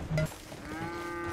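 Cows moo in the video game Red Dead Redemption 2 on a ranch at night. A brief, louder low call is followed by a long, sustained moo that sounds fairly close.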